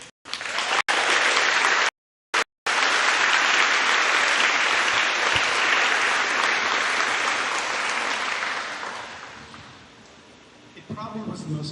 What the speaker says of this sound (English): give a big round of applause to all of us for surviving this past school year